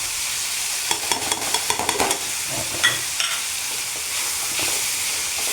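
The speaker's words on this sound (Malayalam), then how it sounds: "ഞാനിങ്ങനെ ഒറ്റക്കൈ കൊണ്ടിട്ട് ഇങ്ങനെ പിടിച്ചിളക്കുന്നതുകൊണ്ടിട്ടാണ് കേട്ടോ." Chemeen roast, spiced prawns, stirred in a pan: a steady low sizzle with quick clusters of scraping stirs and clinks from the utensil, close by, no voices.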